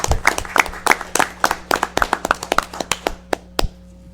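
Clapping for county employees at a county fiscal court meeting: a short burst of sharp, separate hand claps from a few people, thinning out toward the end.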